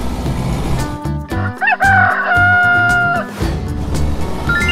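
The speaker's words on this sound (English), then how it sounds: "Chicken." A rooster gives one loud, drawn-out cock-a-doodle-doo in the middle, with chicken clucking and farmyard fowl noise just before and after it.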